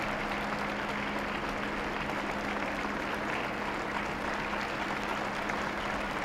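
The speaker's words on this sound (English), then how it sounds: "we hear another loud round of applause for Pope Benedict and the staff who work in the papal household" Large crowd applauding Pope Benedict XVI and the papal household staff at his departure from the Vatican, a steady, dense wash of clapping that holds evenly throughout, heard from some distance.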